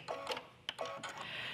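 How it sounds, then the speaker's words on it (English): An embroidery machine stitches a seam through two layers of baby bib fabric, stabilizer and batting in the hoop, giving quiet rapid mechanical ticking and whirring with a few sharper clacks, close up and alone. "This step is actually stitching a line that is seaming the two fabrics to the stabilizer and the batting"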